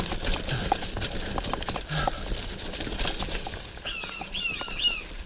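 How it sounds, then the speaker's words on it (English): Startled birds flap away chirping near a wooded bike park trail, a brief flurry of wingbeats and chirps near the end, following steady crunching and rattling of a ride over the path. "Got the birds all riled up."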